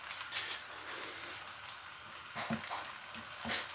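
Chicken fried rice stirred in a frying pan, a steady close sizzle with a few soft scraping and clinking stir sounds, no talking.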